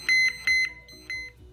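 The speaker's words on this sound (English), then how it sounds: "when your alarms go off, that it's time to go attend to your smoker and adjust your temperature" A Thermoworks Smoke BBQ thermometer sounds its alarm: short, bright electronic beeps in quick pairs, repeated three times, close and clear.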